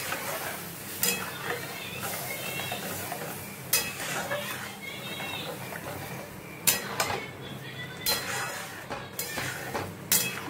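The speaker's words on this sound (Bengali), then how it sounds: "দেখুন গরম হয়ে গেছে, এবার আমি মশলাটা দিয়ে দেব। এবং সবটা কষাবো।" Spice paste hits hot oil in a pan and gets stirred, a steady sizzle broken by scraping and clinks of a spoon against metal, with occasional louder knocks; a voice talks over it.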